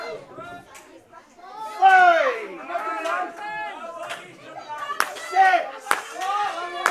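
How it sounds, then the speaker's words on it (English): A boxing crowd roars and cheers for Harrison Bennett during the referee's count, a loud swelling din of shouts and claps with rising bursts around the middle and end. "the crowd trying to will Harrison Bennett on"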